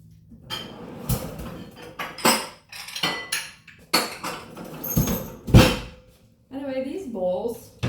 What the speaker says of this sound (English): So I'm just going to grab a bowl.